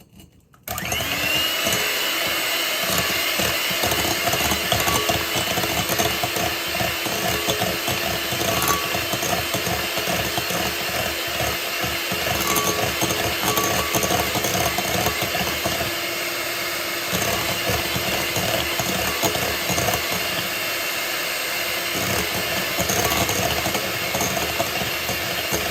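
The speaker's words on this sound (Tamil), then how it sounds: "3 எக், 1/4 கப் சுகர், 2 முறை பீட் பண்ணுவோம்." Electric beater whipping three eggs with a quarter cup of sugar for pancake batter, a loud, steady motorized whir that runs continuously without pause, close by.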